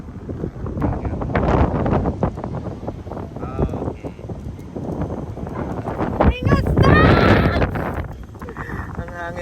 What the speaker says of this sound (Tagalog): Ang hangin pa sobra.